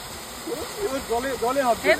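A steady rush of falling water from a waterfall in Tabakoshi, North Bengal, fills the background while a person talks over it.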